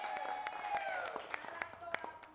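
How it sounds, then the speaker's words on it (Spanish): Scattered clapping from a small stand-up comedy audience, fairly faint and uneven, with a voice carrying over it. "Fuerte el aplauso para mi compañero"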